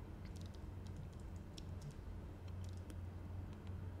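Keys tapped on a computer keyboard to enter a flight plan waypoint for a Cessna 172 G1000 in MSFS 2024: a few faint, scattered clicks in small clusters over a low steady hum.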